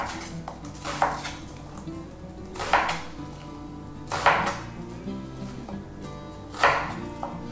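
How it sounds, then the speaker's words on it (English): A knife rough-chops vegetables on a cutting board in a kitchen, landing four or five distinct, fairly loud thuds at uneven intervals over a low background hum. "just a simple rough chop"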